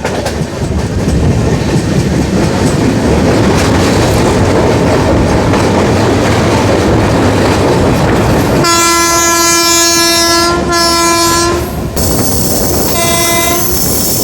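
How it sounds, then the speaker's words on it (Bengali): The 13149 Kanchankanya Express rumbles loudly along the track with a steady roar, then its horn blares in two long blasts near the end, close and dominant over the running noise. "আমাদের ট্রেন শিলিগুড়ি ছাড়ার পর এখন এসে পৌঁছালো সেবক রেলওয়ে স্টেশনে"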